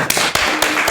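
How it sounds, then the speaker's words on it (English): Applause for Mr. Ben Murphy at a formal debate on divesting from fossil fuels opens with a few loud, sharp claps close by, spaced unevenly across a second. "So if we could give a round of applause to Mr."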